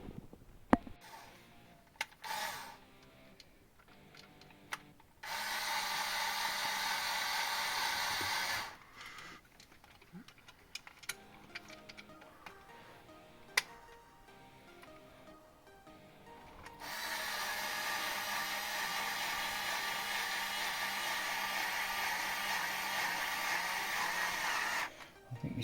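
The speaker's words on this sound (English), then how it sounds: "think your screwdriver could do with charging up, don't you? Sounds like it." An electric screwdriver with a low charge turns screws while a light switch is swapped for a smart one. Two separate stretches of steady, close whirring are separated by quieter handling noises, with no voices.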